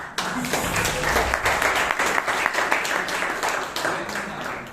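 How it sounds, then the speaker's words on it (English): Renewed clapping from the audience at a Bangalore Toastmasters meeting, a dense, even round of many hands sustained for several seconds, with faint speech underneath. "As Alan said, you must clap, so please clap again."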